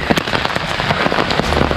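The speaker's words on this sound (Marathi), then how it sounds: "पाऊस तर एवढं मस्त चालू आहे" Monsoon rain pours on the trekking trail to Lohgad fort near Lonavala. It is a loud, dense, steady patter of drops close by, with no pauses for the whole moment.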